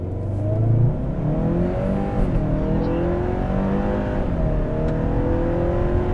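A Hyundai Santa Cruz turbo pickup launches hard from 0 to 60 with traction and stability control off. The engine roars loudly and climbs steadily in pitch, broken by several quick, snappy gear shifts, with no talking.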